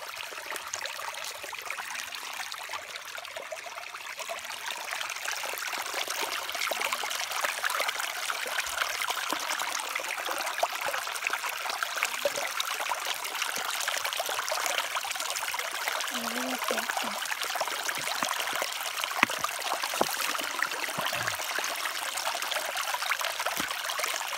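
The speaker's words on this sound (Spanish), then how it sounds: "Te gusta mucho ver el agua" Water runs steadily in a mountain torrent, making a continuous bright rushing and trickling sound that stays close and even throughout. Faint voices can be heard now and then.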